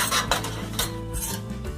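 Cooked lentils and pumpkin being stirred together in a metal pot, with a spoon scraping and clinking against the sides in several quick, close strokes.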